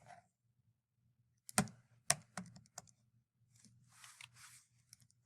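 Keys on a calculator being pressed, a few sharp close clicks and taps in a quiet room, spaced irregularly, followed by softer rustling, with no talking.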